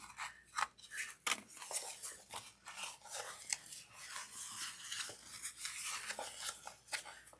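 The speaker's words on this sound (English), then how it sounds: "I find I get a smoother, cleaner look if I use pinking shears around curves" Pinking shears snipping notches around fabric curves for a handbag, a close, quiet run of crisp repeated cuts in an irregular rhythm.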